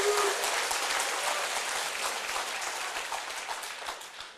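Audience applause at a network marketing company presentation, a dense wash of clapping filling the room at a steady level that slowly thins toward the end, with no voices.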